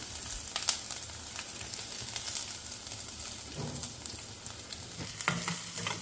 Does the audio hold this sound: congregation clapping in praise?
no